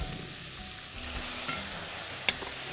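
Grated onion and potato stirred in a hot frying pan, a steady close sizzle with the scrape of a spoon and a sharper clink near the end, no voices.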